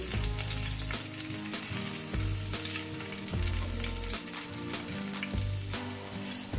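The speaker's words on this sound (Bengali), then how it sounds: "একটু ঢেকে ভাজবো রসুনটা তাহলে রসুনটা তাড়াতাড়ি নরম হয়ে যাবে" Garlic fries in oil in a covered pan, a dense, continuous crackling sizzle that stays steady throughout, with a low rumbling hum underneath and no voices.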